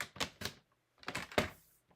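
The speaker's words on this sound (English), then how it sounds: "So let me just cut 1 inch." A paper trimmer cuts card stock to size for a swap card with a few close, sharp clacks and snaps in two quick pairs, separated by a short silence.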